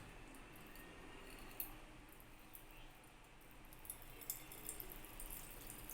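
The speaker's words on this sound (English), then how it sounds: "I'm going to pour in my distilled water" Distilled water, 200 grams, poured into a body butter mix: a faint, steady trickle with small dripping ticks, close by and quiet, with no talking.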